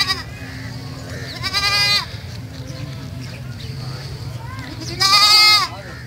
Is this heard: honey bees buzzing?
no